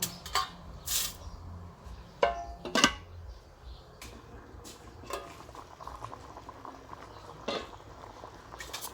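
Tilapia pieces drop into a pot of boiling Thai curry, the liquid bubbling steadily with a few sharp splashes and clinks of a pan, close and moderately loud with no talking.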